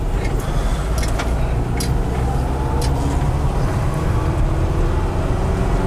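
A 1974 Volkswagen Westfalia camper van with an automatic transmission pulls away and shifts through its gears, its engine and road noise running as a steady, continuous rumble with a few brief higher clicks and rattles near the start.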